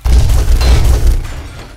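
A heavy boom from an EMP grenade in the DistrictZero game mod bursts out with a deep rumbling roar that slowly fades, loud and close.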